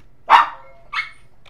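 A pet dog in a bedroom gives two sharp barks close by, a loud one followed by a shorter, softer one, with a faint trailing yip and no talk over them.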